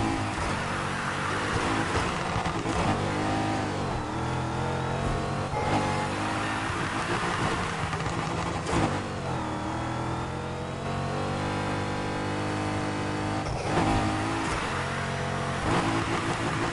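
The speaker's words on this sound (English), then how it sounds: "That's a hard drift, baby." A Transformers-themed car in a Need for Speed racing game, engine revving hard and whining through shifts as it drifts, loud and steady with surging pitch changes, no voices.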